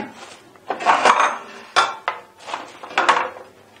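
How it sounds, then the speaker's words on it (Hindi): A utensil scraping and clinking against a pot of boiling water as it is stirred, a few close, irregular metallic strokes with short pauses between them. "इसको जो है ना इसको हिलाते रहना इस तरह"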